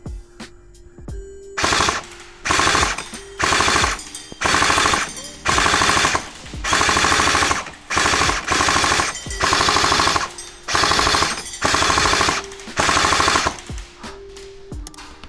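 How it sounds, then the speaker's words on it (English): Bursts of full-auto fire from an LCT PKP airsoft light machine gun, about eleven loud close bursts of one to two seconds each separated by short pauses, with a faint motor whine between them. "If you've never shot a light machine gun, yeah, they're super awesome."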